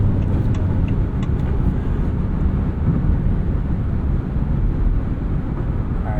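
Inside a 2023 Maserati Grecale Trofeo on the move in comfort mode, a dense, steady rumble of engine and road noise fills the cabin, loud and unbroken throughout.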